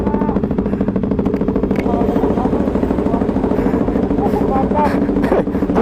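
A Ducati Evo 848 motorcycle engine idles close by with a rapid, rattling, continuous putter, loud and steady, with some talk mixed in.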